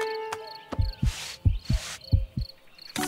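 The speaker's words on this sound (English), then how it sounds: "Strong heartbeat. That's a good sign." Cartoon vet examination heartbeat: a steady series of deep, close thumps in lub-dub pairs, with a soft airy whoosh between some beats and a faint high electronic tone behind.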